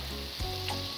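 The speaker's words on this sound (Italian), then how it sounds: "Quando l'impasto sfrigola, eccolo, vuol dire che è pronto." Choux pastry dough for zeppole di San Giuseppe sizzles and crackles steadily in a hot pan, a close, even frying hiss with a soft stir partway through.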